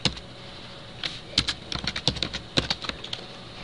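Fingers tap on a computer keyboard in short, uneven bursts of light clicking keystrokes, close and fairly quiet with no talking.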